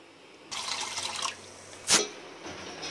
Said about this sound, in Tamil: அந்த அவுளை வந்து தண்ணியில் கழுவி வச்சுக்கலாம்.